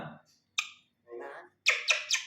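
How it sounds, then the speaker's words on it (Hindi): A pet myna bird calls out in short bursts, a low squawk, a bright syllable, a rougher mid phrase, then three quick shrill chirps close together, fairly loud and near, with no other talk. "हमारी मैना हमसे बोल रही है मैना"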